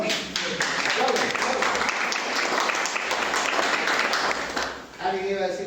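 Applause fills a classroom with steady, dense clapping under a murmur of students' voices, briefly thinning near the end as talk resumes.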